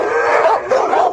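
Dogs at a rescue that shut down bark and howl together, a dense, loud, continuous chorus of overlapping yips and wavering howls filling the whole moment, with no voices.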